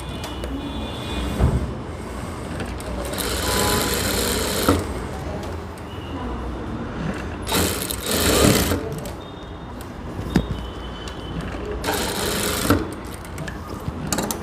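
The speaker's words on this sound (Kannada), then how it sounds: "ಈಗ ಈ ಡಾಟ್ಸ್ಗೆಲ್ಲ ಒಂದು ಲೂಸ್ ಸ್ಟಿಚ್ ಹಾಕ್ಕೊಳ್ಳಿ" Sewing machine running loose, long basting stitches along the darts of a four-dart blouse, a steady mechanical whirr in several bursts with brief pauses, close and fairly loud.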